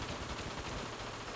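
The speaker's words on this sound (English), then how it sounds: "Who's shooting?" Continuous gunfire in the video game PayDay 2, a dense steady barrage of rapid shots with no pauses, loud and unbroken throughout.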